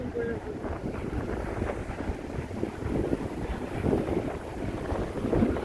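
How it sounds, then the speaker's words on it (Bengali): Strong wind buffeting the microphone by the sea at a popular tourist spot in Italy, a constant low rumbling roar with gusty surges and a faint hint of surf. "প্রচণ্ড বাতাস।"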